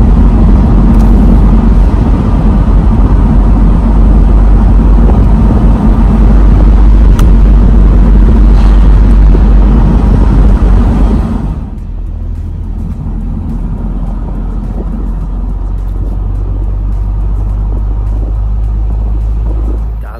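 A car driving along a road toward Hintersee in the Berchtesgaden area, a loud, steady engine and road rumble that drops to a quieter low drone partway through, with no talking.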